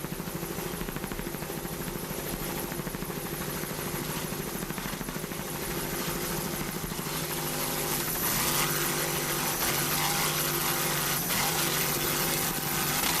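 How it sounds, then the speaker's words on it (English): Racing powerboat with a Thunderstruck inboard engine, competing at the 1986 Key West world championship race, roaring steadily at a distance with a broad droning tone that swells slightly louder partway through, no talk over it. "Bill McComb, as you can hear, that Thunderstruck inboard."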